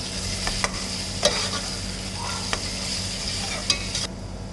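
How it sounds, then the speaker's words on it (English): Onions and chopped chilies sautéing in a pan, a steady low sizzle with a few sharp scrapes and clicks of a utensil stirring against the metal, close and moderately loud with no talking. "Saute a bit."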